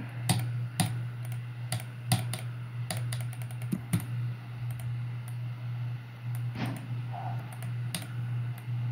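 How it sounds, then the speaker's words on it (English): A computer mouse and keyboard click repeatedly during a survival game, giving sharp, irregular ticks, some in quick bursts, over a steady low hum with no talk. "You can hear me clicking multiple times just to do a basic task."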